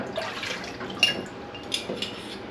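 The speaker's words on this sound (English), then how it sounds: "I just like to give them a little rinse because you don't know where this lid was before" A metal canning jar lid rinsed under running water from a kitchen tap, with a soft trickle, dripping, and a couple of light clinks of metal, fairly quiet and close.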